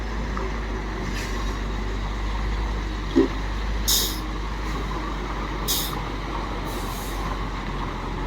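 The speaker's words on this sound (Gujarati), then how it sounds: "જો આઈસરની ગાડી આવે છે." An Eicher truck rolls past in steady traffic, a constant low engine rumble with brief hissing air-brake bursts and a sharp clank, heard close with no talking.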